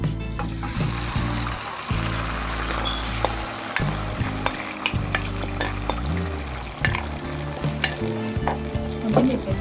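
An egg mixture for an omelette fries in hot oil, giving a strong, continuous sizzle with crackles and scattered clinks and scrapes throughout, under a low, fluctuating hum; no speech.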